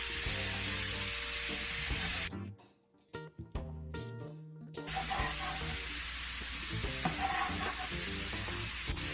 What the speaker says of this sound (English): One onion. I'm gonna throw it in.